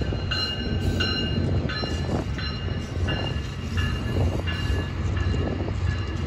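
An Amtrak Capitol Corridor passenger train pulled by an F59PH locomotive rumbles steadily past close by at San Jose, California, a loud continuous roar with rhythmic wheel clatter over the rails and a high tonal whine.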